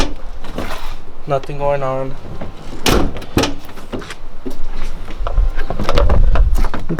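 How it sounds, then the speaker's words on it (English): Door of a 2007 Chevy Silverado single cab pickup being rebuilt after a wreck, opening with a few sharp knocks and clicks close by, surrounded by someone talking. "Door opens."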